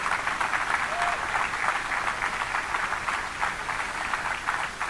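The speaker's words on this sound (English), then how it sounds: "Give them all a round of applause." A crowd at the 2019 Minnesota 4-H Purple Ribbon Livestock Auction gives 4-H extension educators and program coordinators a round of applause, a full and sustained wash of clapping that holds at a constant level throughout.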